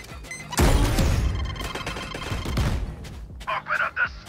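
A grenade goes off in a Valorant match: a sudden loud, close blast at once tails into a dense, crackling rumble that fades over a few seconds, followed by a couple of short, sharper bursts.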